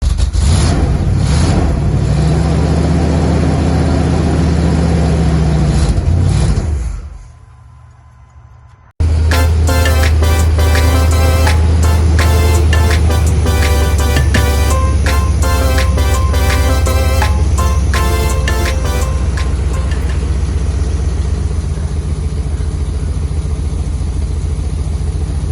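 A 1979 Chevrolet Corvette C3 under restoration runs and settles into a steady idle, a loud, continuous low engine rumble that briefly fades near the middle before picking back up, with no talking.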